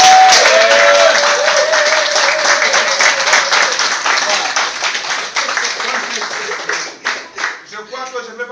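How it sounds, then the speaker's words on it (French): An audience applauds at a Brussels reception honouring a mayor, the clapping dense and sustained, then thinning into scattered claps toward the end, with a voice briefly audible at the start. "je demanderai des applaudissements aussi pour Zulfikar"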